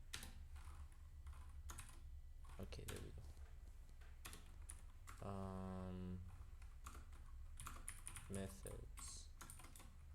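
Rapid clicking keystrokes on a new computer keyboard while taking C++ programming notes, irregular bursts spread across several seconds, close and fairly quiet, with someone briefly talking partway through.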